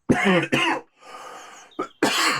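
Two short coughs, then a pause and one more brief cough followed by a final cough, close to the mic with no talking.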